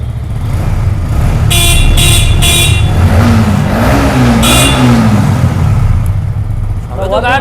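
A 2024 Yamaha MT-15 motorcycle idles loudly inside a Kolkata bike showroom, then revs up and down with a rising and falling engine note. A few short horn-like toots sound, and people talk over it.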